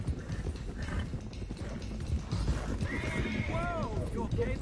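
Horses in the western game Red Dead Redemption 2, hooves clip-clopping steadily throughout with a loud whinny near the end, as a voice talks over the noise.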